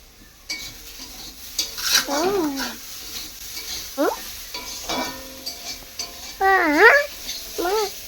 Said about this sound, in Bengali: সতনা ফুল বেগুন আলু একসাথে ভেজে নিচ্ছি গরম তেলের মধ্যে দিয়ে এখন সেটা ভাজছি